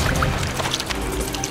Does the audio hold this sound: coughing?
no